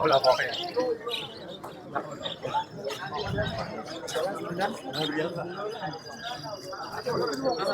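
Caged birds chirping and twittering at the Margilan bird market in Uzbekistan, faint high calls scattered beneath constant nearby talk and crowd chatter.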